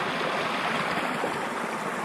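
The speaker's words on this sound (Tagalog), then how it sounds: "Sobrang lakas ng agos." A strong river current rushes past at flood level, a loud, steady, broadband roar of churning water filling the whole stretch with no break and no voices.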